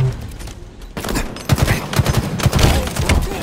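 Rapid gunfire crackles through a Halo Infinite oddball match, bursts overlapping into a dense barrage after a brief quieter opening, loud and close with heavy thumping impacts.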